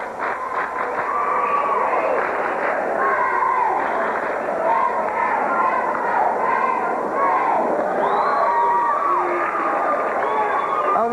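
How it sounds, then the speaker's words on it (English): A packed crowd at a 1987 high school basketball semifinal, Gate City at Abingdon, roars and cheers with clapping mixed in, a loud, steady wall of noise that holds for the full stretch. "You hear the cheer there."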